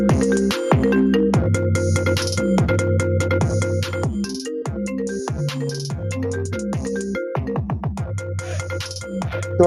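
A phone ringtone sounds for an unknown caller, playing a loud, repeating melodic electronic tune in bright, even notes and pulses, close and uninterrupted for about ten seconds.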